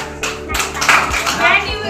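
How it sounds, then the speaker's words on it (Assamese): Several bursts of hand clapping from a group of school children, loose and uneven rather than in unison, with a steady background hum underneath. "চাৰি বুলি কোৱাৰ লগে লগে হাত তালি দিব লাগে"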